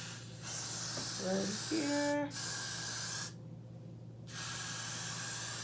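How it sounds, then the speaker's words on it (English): Got To Be Ultra Glued styling gel sprayed onto a wig gives close, steady hissing spray bursts broken by a short pause, with someone speaking briefly over it. "so my wig can stick, is I'm going to spray"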